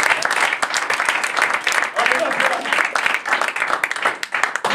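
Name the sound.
congregation applauding for the Lord in church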